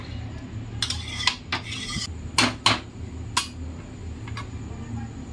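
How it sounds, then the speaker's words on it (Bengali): A spoon scrapes and clinks against a pan while chicken is stirred into yogurt, giving a series of short metallic scrapes and taps at irregular intervals over a low background hum, close up, with no talk. "ভালো করে দেখুন মিশিয়ে নিয়েছি দইটার সাথে মাংসটা।"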